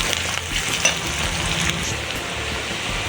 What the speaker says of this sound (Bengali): দিয়ে ভালো করে একটু লাল লাল করে ভেজে নেব।